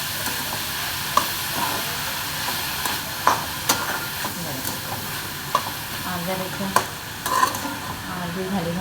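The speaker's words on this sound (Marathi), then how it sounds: "भाजी चांगली परतून घेऊया" Dill greens (shepu bhaji) stir-frying in a pan hiss loudly and steadily up close, with irregular sharp spatula knocks and scrapes as the leaves are tossed.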